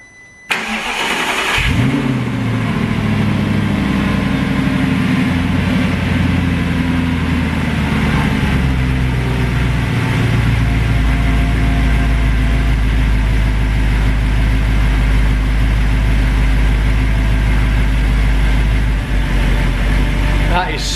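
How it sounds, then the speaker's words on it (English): An Audi R8 with a fully rebuilt engine and its exhaust fitted fires up after a brief crank, then settles into a loud, steady, deep idle that runs close and unbroken. "let's get off the ramp and start her up for the first time with the exhaust on"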